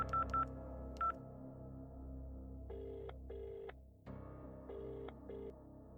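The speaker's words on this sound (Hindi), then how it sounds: "घर में फोन लगाओ" A telephone being dialed, with a series of bright keypad tones in short beeps and paired bursts over a steady low hum, close and clear with no talk.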